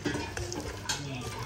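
Ghee and yogurt being mixed in a pan, a close scraping stir with light utensil clatter against the metal and a faint sizzle beneath.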